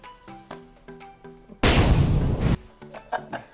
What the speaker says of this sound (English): Was the guns too much? I can cut out the guns.